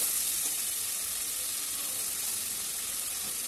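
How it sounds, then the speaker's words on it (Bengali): Marinated singi fish fries in hot oil, a dense, even, hissing sizzle held at steady loudness with no voices. "এর মধ্যে তেলের মধ্যে দিয়ে দেব ম্যারিনেট করা মাছটা।"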